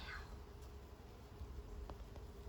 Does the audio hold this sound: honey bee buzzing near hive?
yes